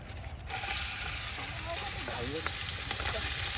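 Onions fry with biryani masala over an outdoor village cooking fire for egg biryani, a loud, close, continuous sizzle and crackle with no voices.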